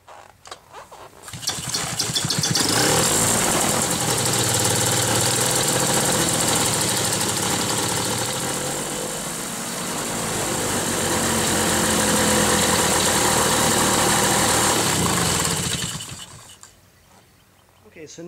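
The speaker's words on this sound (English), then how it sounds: "Okay, so next you want to warm up the engine." A paramotor engine is warmed up on the ground before a flight. It runs loud and steady for about fifteen seconds, with one brief dip in revs midway, and then cuts off.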